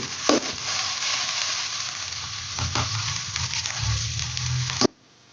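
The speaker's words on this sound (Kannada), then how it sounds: "ಕಡಾಯಿ ಇಟ್ಟಿದೆ ನೋಡಿ, ಬೆಣ್ಣೆ ಹಾಕ್ತಾ ಇದ್ದೇನೆ." Fresh homemade butter melts in a hot kadai with a steady, close sizzle and light crackle, broken by a few stirring scrapes, before stopping abruptly.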